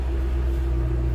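Deep, steady idle rumble of a white 2008 Ford Mustang Shelby GT500 convertible with stock exhaust, heard close from behind the car, a constant low throb with no voices.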